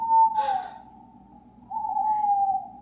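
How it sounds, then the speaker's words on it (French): An owl hoots twice in a dark forest in a Halloween story, two drawn-out whistling calls with a short breathy sound between them, clear and alone. "Ils entendirent des cris de hibou"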